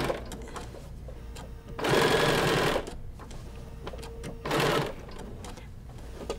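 A domestic sewing machine stitches a quilted snack mat in two slowed, steady bursts of mechanical whirring, each lasting about a second, with quiet pauses and faint handling clicks between them.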